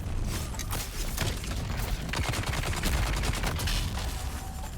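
Rapid bursts of gunfire in the video game Dune: Awakening, a dense crackling fusillade of overlapping shots that continues throughout with mechanical clatter and no talk.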